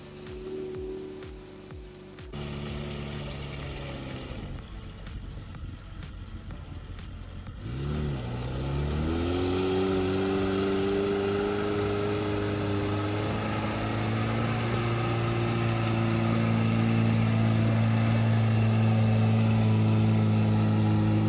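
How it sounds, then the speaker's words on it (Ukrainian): A Chinese tractor's engine labours as it drives off uphill, a steady droning hum that rises in pitch and grows louder and nearer partway through, then holds a strong, sustained roar. "Все, трактор виїхав без моста."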